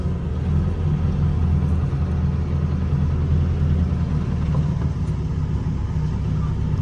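An old car engine running at a steady, low rumbling idle, close and loud, continuous throughout with no talking.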